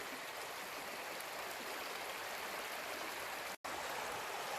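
Fast-flowing river in Hafren Forest, a continuous close roar of rushing water that stays steady throughout, with one momentary dropout near the end.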